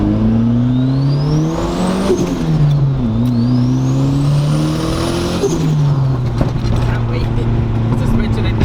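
Boosted Nissan 240SX pulling at full throttle on a street in Mexico, the engine note climbing through several gears with shifts and turbo whine, loud and close from inside the car, with voices under it.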